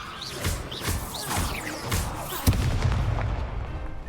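Confringo explosion spells in Hogwarts Legacy, a rapid series of sharp blasts and crackling bursts with whooshing spell sounds, ending in one heavy thump and a rumbling tail.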